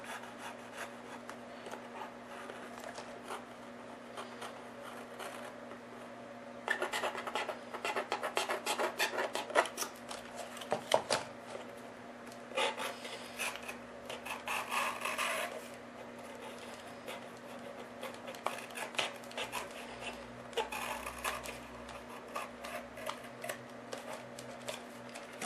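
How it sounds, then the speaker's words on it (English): A sharp craft knife cutting back into chipboard, close rasping and scraping strokes in irregular bursts over a steady low hum, growing busier midway with a few sharper scratches. "just take a sharp craft knife and just cut it back into the chipboard"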